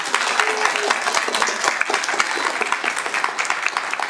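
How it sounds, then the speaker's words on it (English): A commencement crowd at a youth poet laureate event gives a sustained round of applause, dense overlapping hand claps filling the room evenly and steadily throughout. "So, round of applause for all these people."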